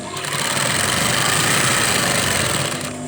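Sewing machine stitching curtain fabric, a continuous fast mechanical whirring hum held steady and loud throughout, easing off at the very end.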